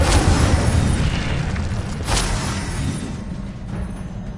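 A fire spell is cast in Hogwarts Legacy on PS5, a loud whooshing, roaring burst of flame with two brighter flares that gradually fades.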